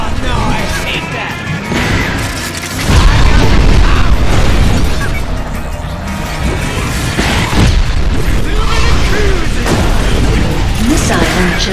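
Missile launcher explosions destroy targets in the video game Cars 2, a series of loud booms and crashes over busy engine and game noise, repeating through the stretch with mechanical clatter between hits.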